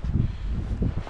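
Low rumbling wind buffets the microphone in uneven gusts outdoors at a wild campsite by Loch Ken, Scotland, with no voices.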